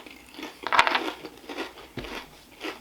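A single sharp crunch from biting into a 3D Doritos chip, followed by softer crackly chewing and a second faint crunch, close and quiet with no talking.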